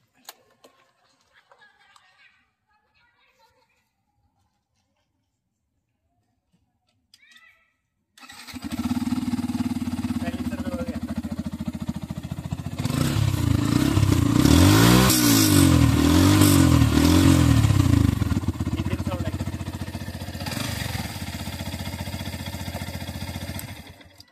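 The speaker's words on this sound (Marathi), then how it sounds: "इंजिन गाडीचा इंजिन आहे 149 cc चं, तर तुम्हाला गाडीचा साऊंड ऐकवतो।" A Yamaha FZS V4 motorcycle with a 149cc engine starts after a quiet pause, then runs loud and close. It revs up into a stronger, rising roar midway before settling back to a steady idle.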